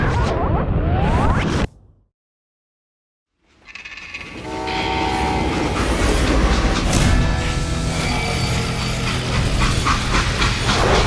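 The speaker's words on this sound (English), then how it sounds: "how'd they stop this train in the first place?" Freight train in the Western video game Call of Juarez: Gunslinger: a loud, steady rumble of rolling railcars with squealing, clattering metal, starting after a brief noisy burst and a moment of silence.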